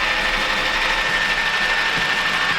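Gyrocopter (autogyro ultralight) engine in flight, a steady, even drone with a constant buzzing whine and no pauses, loud and continuous throughout.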